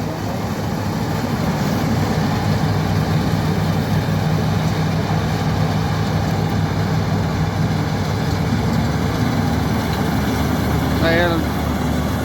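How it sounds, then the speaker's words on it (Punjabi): A combine harvester's engine runs during a wheat harvest in the fields, a loud, continuous droning hum that holds steady throughout, with voices heard over it. "ਕੱਲੀ ਇੰਜਣ ਦੀ ਆਵਾਜ਼ ਆ"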